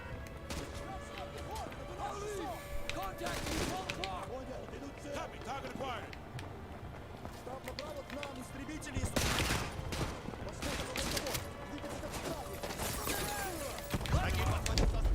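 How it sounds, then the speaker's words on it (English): Gunfire and explosions in Call of Duty Modern Warfare 2 Remastered pop and crack in scattered bursts, with louder volleys and crashing blasts later on, while a player talks over the battle throughout. "Why don't you actually shoot the guy who's actually shooting me?"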